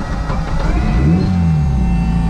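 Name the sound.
race car engine starting and idling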